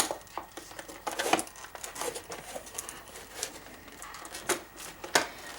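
Plastic blister packages being pried and torn open, close by, with irregular crinkling, snapping and crackling bursts scattered over several seconds and no voices.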